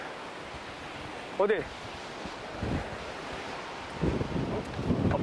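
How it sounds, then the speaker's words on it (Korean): At a surfing beach on a windy day in Busan, ocean surf rolls under a constant roar of strong wind buffeting the microphone, with a brief spoken question partway through. "오늘 좀 바람이 좀 많이 부는데"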